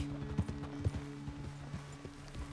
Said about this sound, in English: See, that seemed like a fairly safe gallop